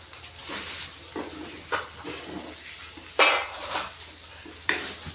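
A paneer masala mixture with a pinch of salt roasts and sizzles in a pan, a steady frying hiss broken by several scraping stirs of a spoon, close and clear, with no talking.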